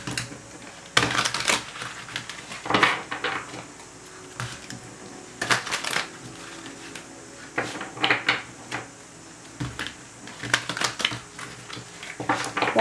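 Tarot cards riffle and slap together in short irregular bursts, separated by brief pauses, close and moderately loud with no talking.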